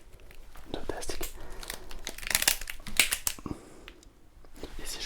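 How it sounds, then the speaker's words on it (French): Thin plastic wrap crinkles and rustles in bursts as it is pressed over a whole watermelon, close and fairly loud, with soft voices murmuring between the crinkles. "je vais recouvrir la pastèque de plastique"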